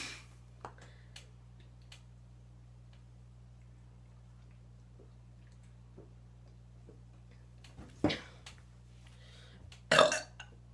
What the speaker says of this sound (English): That was the burping challenge.